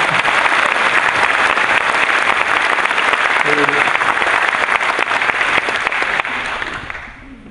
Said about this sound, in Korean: 이대목에서 박수 한번 안 주시죠